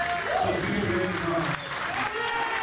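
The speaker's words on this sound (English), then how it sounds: "everybody give a round of applause" Crowd applause at a wrestling event as a champion invites his fiancée into the ring, a moderate wash of clapping that sits under an announcer's talk and steady crowd noise.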